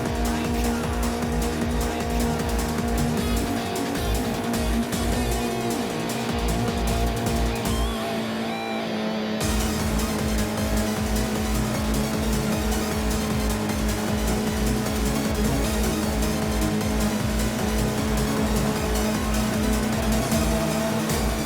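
Car engine and tyres in the racing video game Forza Horizon 5: a loud, steady engine drone fills the clip with faint tyre squeal, dipping briefly near the middle before surging back at full level.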